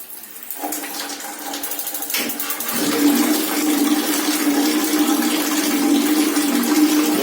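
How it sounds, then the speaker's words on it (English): Water runs from a tap fed by a gas water heater, starting with a few clunks and splashes, then settling into a steady, loud rushing stream with no talking. "Now, just going to turn on the tap now."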